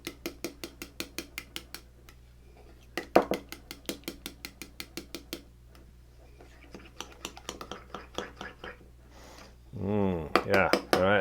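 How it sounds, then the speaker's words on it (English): Mustard is stirred into mayonnaise in a bowl for Japanese potato salad, giving a quick run of regular light clinks and taps from the utensil against the dish. A voice talks partway through and near the end. "I want to mix that mayonnaise, or that mustard, into that mayonnaise"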